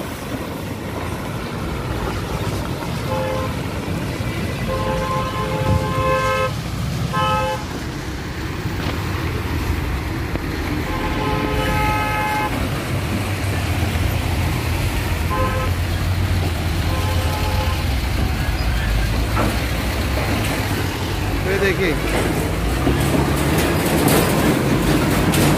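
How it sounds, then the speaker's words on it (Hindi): Heavy road traffic near the Ajanta bus stop rumbles steadily as buses and cars pass, with repeated horn honks sounding in short bursts over the constant engine noise. "इस तरफ से भी बस देखिए और उस तरफ से भी गाड़ी ट्रैफिक देखिए।"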